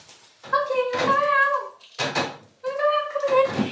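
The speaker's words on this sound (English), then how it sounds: "He's such a smart cat." A cat meowing indoors at home, three drawn-out, close and loud meows separated by short pauses, with some household clatter around them.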